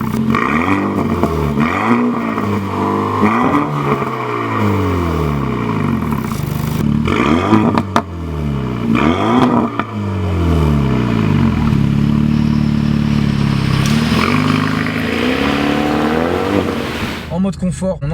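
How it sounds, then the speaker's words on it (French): A Renault Mégane R.S. Trophy revs hard with its sport-mode exhaust valve open, loud repeated roaring rises and falls through gears with crackling blasts, while someone talks over the engine. "on a un système de clapet qui permet en mode sport d'ouvrir l'échappement. Et là on a une déflagration à l'arrière"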